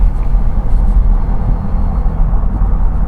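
Steady, loud tyre roar from the road pours in through an opened window of a Volvo S60 1.6 D sedan at speed, a dense low rumble that holds evenly throughout with no talking.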